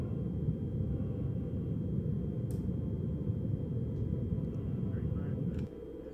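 Steady, loud low rumble of a lunar lander engine throttling up in the video game Lunar Flight, a dense continuous roar that holds for several seconds before dropping slightly in level near the end.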